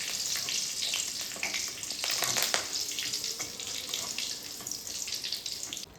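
Dried red chillies and curry leaves frying in hot oil, a dense steady crackle and sizzle with scattered sharper pops, close and continuous with no voices.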